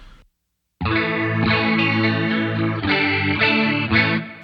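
Electric guitar chords through a Line 6 POD Go ring out with a shimmering, wavering chorus effect, strummed steadily after a brief silence, full and loud with no talking.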